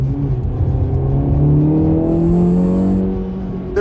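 The 2024 Acura Integra Type S engine hums and revs smoothly from inside the cabin, pitch climbing and then easing off across a few seconds, loud and close.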